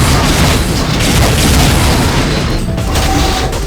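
Rocket explosions boom almost nonstop in a rocket-only arena match of the multiplayer game Unreal. The blasts are loud and dense, overlapping into a continuous roar of impacts.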